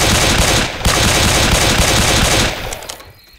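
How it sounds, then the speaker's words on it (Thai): Rapid automatic gunfire from Left 4 Dead 2, shot into the air as a warning, rattles loud and dense for about two and a half seconds before cutting off and fading to a quiet tail. "ยิงปืนขึ้นฟ้าขู"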